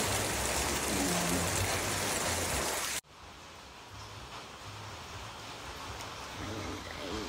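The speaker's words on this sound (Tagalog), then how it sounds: "Lakas ng ulan guys." Heavy rain pours down in a dense, steady roar. The sound is loud at first, drops suddenly partway through, then continues as a softer, even wash of rainfall.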